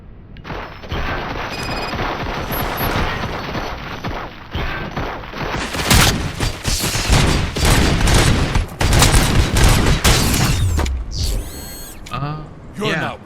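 Heavy gunfire rings out in the Robocop video game as a loud, continuous fusillade of rapid shots and impacts builds over several seconds, then gives way to crashing debris and whooshing effects.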